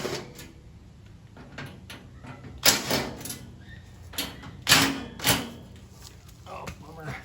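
Screws and a metal panel come off a Pit Boss FB700 pellet grill that has no heat, giving scattered clanks, rattles and a few sharp metallic knocks between stretches of quiet handling.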